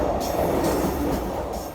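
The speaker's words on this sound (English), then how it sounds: "It's always satisfying to run express through this station while your favorite song plays the best part as the train rockets past" A train running express through a station on the Burnley group lines, a steady loud rumble of wheels and rail noise rushing past with no break and no voices.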